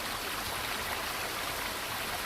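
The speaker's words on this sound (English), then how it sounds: "we could hear the river rolling down the hills" A river rushes down forested hills in New Zealand, a steady, even wash of water noise that stays constant throughout, with no voices.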